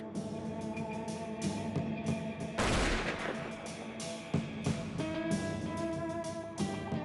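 A single loud rifle shot fired at a target on a range, a sharp blast with a ringing decay, heard over a steady background.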